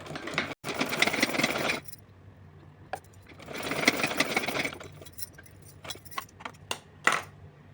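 An electric sewing machine stitches fabric edging on a small doll nighty in two sustained runs of rapid whirring, close by, separated by quiet pauses with light clicks and handling noises.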